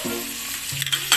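Pork chops sizzle in a pan of butter and oil, a steady close frying hiss throughout with a few louder spits and crackles near the end.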